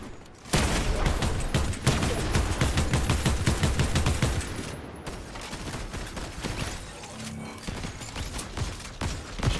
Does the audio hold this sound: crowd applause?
no